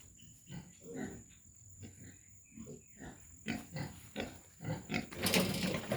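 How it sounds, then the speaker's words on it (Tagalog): Month-old young native pigs (gilts) on a farm grunt and snuffle repeatedly at close range, the noises growing louder and busier toward the end. "Ito naman yung ating mga dumalaga."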